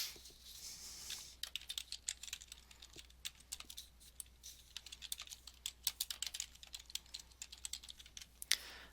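Quiet, close keystrokes tap on a computer keyboard in quick irregular bursts, with a faint steady hum underneath and no speech.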